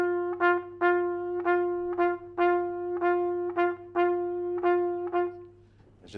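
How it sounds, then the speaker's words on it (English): A repeated tuned note, piano-like, plays the habanero dance rhythm, a syncopated three-plus-two pattern used in Latin and jazz music, cycling several times with clear, evenly struck accents before fading. "Now the habanero rhythm is a very important rhythm in all dance music"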